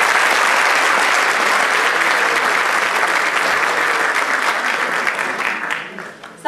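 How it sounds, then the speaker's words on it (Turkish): A concert audience claps for the singers on stage in sustained, dense applause that stays loud and steady before fading out near the end. "Ve bir alkışta sahnedeki ses sanatçılarımız için rica ediyorum."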